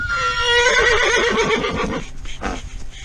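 A horse lets out one loud, close neigh lasting about two seconds, a wavering whinny that drops in pitch and fades, followed by faint snorting and shuffling.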